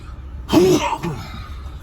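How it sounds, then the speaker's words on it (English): One abrupt, close sneeze triggered by dust in the air, a sharp burst followed by a brief breathy tail against a quiet room. "I need to sneeze."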